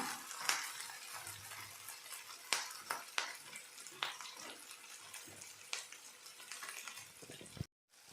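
Paneer frying in a pan for paneer kadai gives a quiet, low sizzle broken by sharp spatula clicks and pan clatters at irregular intervals, with the sound cutting out briefly near the end.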